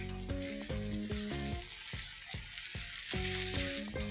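Onions sauteing with red chili flakes and mixed herbs of oregano, rosemary and thyme in a pan, a steady close sizzle with a bright frying hiss, under tonal background music with a beating rhythm.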